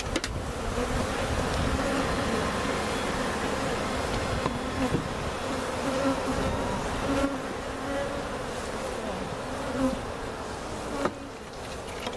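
Dense, steady buzzing of many bees swarming close by, continuous throughout with no voices.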